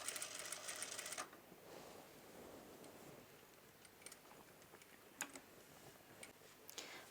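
A sewing machine runs a bar tack in a quick burst of rapid stitching at the start, then quiet room tone with scattered light clicks and taps from handling the fabric.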